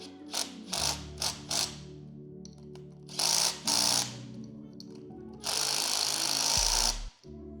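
Wheel nuts are tightened onto the rear axle of a Battle Aero drift kart with a ratcheting tool, giving repeated bursts of clicking and mechanical rattling, with a longer louder run near the end.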